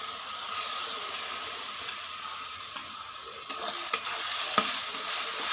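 Ground pumpkin-peel paste with chilli is stir-fried in a pan. A soft continuous sizzle runs throughout, and a few sharp spoon scrapes and taps come near the end.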